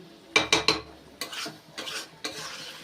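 Mutton cooked down with spices in a pan is stirred with a spoon, three quick scraping strokes followed by slower scrapes over a faint sizzle, close and fairly quiet.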